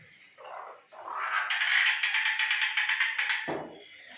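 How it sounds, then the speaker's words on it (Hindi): A myna bird gives a raspy, chattering call lasting a couple of seconds, with a few softer squawks before and after, close and fairly quiet. "ये हमारी मैना कितनी प्यारी है, बोल रही है।"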